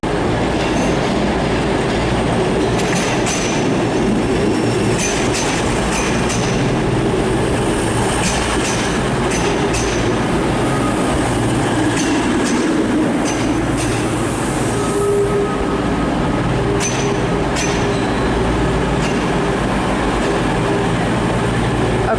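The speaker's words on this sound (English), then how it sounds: "arriving here is the 1632 cross-country service to Edinburgh from Penzance" CrossCountry passenger train arriving at Newcastle station on the East Coast Main Line, a loud, close, continuous rumble of rolling wheels and engine with squealing brakes and intermittent clicks over about twenty seconds.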